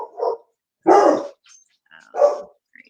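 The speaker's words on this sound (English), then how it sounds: "who made the dogs bark this time?" Dogs bark in three separate bursts, each a loud, close, rough bark, with short gaps of silence between them and a faint whine near the end.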